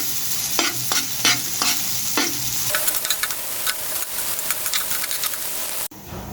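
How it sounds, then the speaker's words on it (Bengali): Chopped onion and garlic crackle in a little hot oil, a loud continuous sizzle with rhythmic scraping strokes of a spatula early on, then a steadier fry and a brief break near the end. "পেঁয়াজ রসুনটা ভাজা ভাজা হয়ে গিয়েছে"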